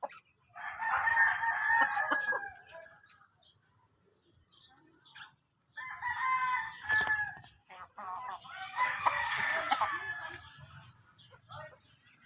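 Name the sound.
chickens clucking and rooster crowing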